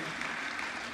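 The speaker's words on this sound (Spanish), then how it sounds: "fuertes aplausos para él" Applause at a church gathering welcoming a priest and exorcist as speaker, a dense steady wash of clapping, fairly faint and uniform for its brief length.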